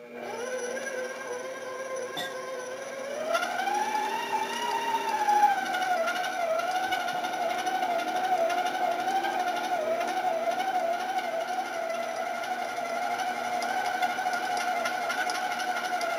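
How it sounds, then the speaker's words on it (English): A stand mixer kneads cinnamon bun coffee cake dough with a steady whirring motor hum. Its pitch rises and strengthens after a few seconds, then holds constant. "That's about 3 or 4 minutes on the mixer."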